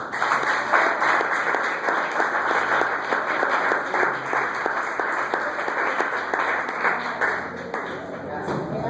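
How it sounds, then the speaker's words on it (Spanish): A church congregation claps and applauds in praise, a dense, steady run of many hands that stays loud throughout, with a ringing tone sustained above it. "Den un aplauso a Cristo."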